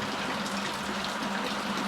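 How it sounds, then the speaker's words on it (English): Heavy rain pours down in a dense, unbroken hiss, close and constant, with no voices over it. "it's pouring."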